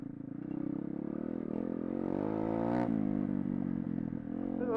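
Pit bike engine buzzes steadily while riding and spinning donuts, a close, constant motor drone with slight rises in revs and a brief higher surge midway, with no talking.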